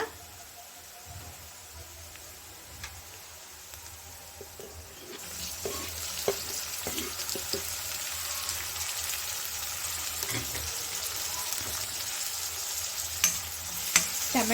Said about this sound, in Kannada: ಟೊಮೆಟೊನು ಚೆನ್ನಾಗಿ ಮೆತ್ತಗಾಗೋವರೆಗೂ ನಾವು ಹುರ್ಕೋಬೇಕಾಗುತ್ತೆ